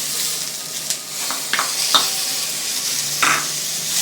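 Onion, poppy seeds and chopped tomato frying for mutton sambar, stirred with a few scraping strokes of a spoon over a steady, moderate sizzle, with no voices.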